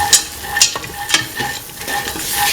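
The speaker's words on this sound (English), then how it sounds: "Thoroughly mixing." Kidney bean, green pea and coconut milk stew being stirred in a pan, with soft repeated scraping strokes and a light sizzle underneath, close and fairly quiet.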